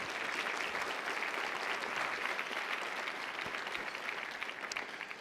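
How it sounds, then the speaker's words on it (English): A conference audience claps steadily in a sustained round of applause, a fairly faint, even wash of hands with no voices over it. "Please give them a round of applause."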